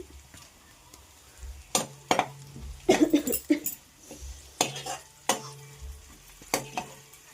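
Onions and a spoonful of turmeric frying in oil for a potato and tomato curry, heard as a steady close sizzle broken by several sharp scraping stirs and clinks of a spoon against the pan, with no talk.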